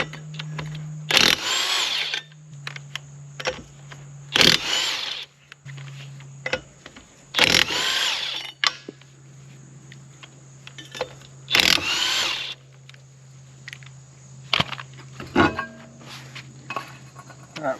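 A power tool is removing the lug nuts from a camper wheel tire in about five loud, one-second bursts separated by pauses. A faint hum continues in between, with scattered small clicks and no speech.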